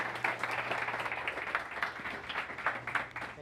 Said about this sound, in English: Big round of applause for challenge.